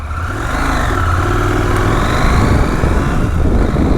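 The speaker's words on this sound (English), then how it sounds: "This is a KTM 890 Adventure" A KTM 890 Adventure motorcycle hums steadily while riding, with a close, constant engine drone and wind rush that holds level throughout, without talk.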